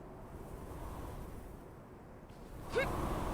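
Steady rushing wind noise fills a windy platforming stage in a video game, a broad constant whoosh with a brief swell and a short whistling sweep near the end.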